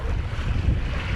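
Gusty wind buffets the microphone while sailing a Sunfish on open water around Isle Royale, a loud broadband rush with waves underneath, steady and close, no voices.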